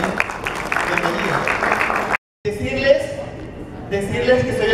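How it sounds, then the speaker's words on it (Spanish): Audience applause at a tourism cooperation meeting, steady clapping that breaks off briefly and then continues with people talking. "También un fuerte aplauso para él"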